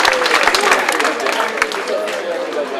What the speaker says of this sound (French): Merci d'applaudir Isabelle Lafargue.